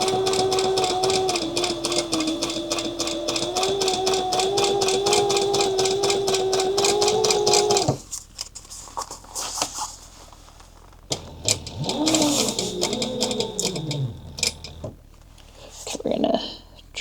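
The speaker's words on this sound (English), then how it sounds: "we're just going to continue top stitching here" A domestic sewing machine top stitching a clutch wallet runs steadily in a fast, even mechanical whir for about eight seconds, then stops; a person talks afterward.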